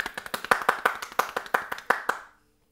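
A small group claps together in a brisk, close burst for Émilie, about a dozen sharp hand claps that stop abruptly and leave silence.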